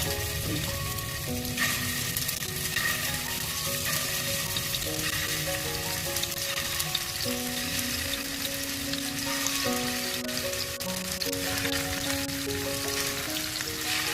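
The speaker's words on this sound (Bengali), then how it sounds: "এবার আমি একটা একটা করে বল দিয়ে ভাজা করে নিই।" Chicken kofta balls deep-fry in hot oil in a kadai, a steady dense sizzle running throughout with soft background music layered over it.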